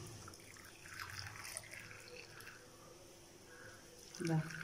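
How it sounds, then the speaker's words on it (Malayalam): Herbal medicinal tea poured into serving cups, a soft, faint liquid trickle and splash close by in a quiet room, with a short voice sound near the end. "ചായ ഇനി സെർവ് ചെയ്യാനായി കപ്പിലൊക്കെ ഒഴിക്കണം"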